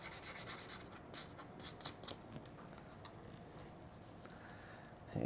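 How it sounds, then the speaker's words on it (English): Abrasive pad lightly rubbing metal shims on the rear end of an HR1 RC car to take off burrs, a quiet close scratchy rasp in short repeated strokes, ending with a louder handling clatter. "I'm just going to give it a really light rub. The Scotch Brite would do the same thing."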